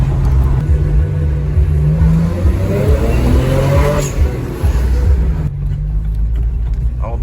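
A BMW 335i accelerates hard, its engine note climbing steadily in pitch under a constant loud roar before easing off near the end; the turbo and blow-off valve sit within the engine noise.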